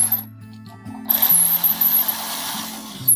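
A screwdriver drives screws into an electrical outlet receptacle, forcing a bent receptacle into place: close, rough ratcheting and scraping with metallic clicks, growing louder and busier midway through.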